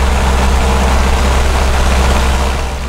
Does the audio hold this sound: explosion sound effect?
no